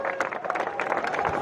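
A crowd at an outdoor Diwali fair poetry recital applauds, a moderately quiet, steady patter of many hands clapping together.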